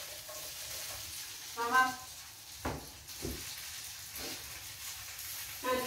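Green beans with garlic frying in a pan, a soft low sizzle with occasional utensil scrapes and clinks, heard faintly beneath brief conversation between two people.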